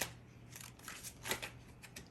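Tarot cards being shuffled and flipped over during a reading, giving soft papery riffles and flicks in a quick, close burst with no talking.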